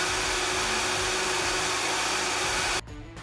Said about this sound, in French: mixer tout ça.